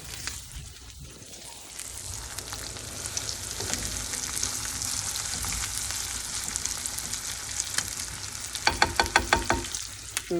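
Chorizo sizzling and frying steadily in a pan, with a continuous close crackle and occasional stirring scrapes, ending in a run of quick clicking taps.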